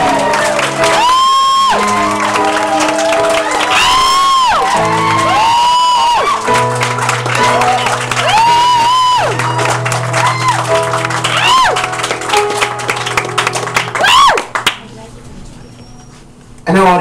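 A studio audience breaks into cheering, whooping and applause at a musical game show, loud and continuous, while a host keeps talking and sung tones ring over the crowd noise.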